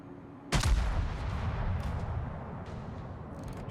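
Warship guns firing in World of Warships, one sharp loud salvo boom followed by a long rolling rumble that fades, with faint cracks later.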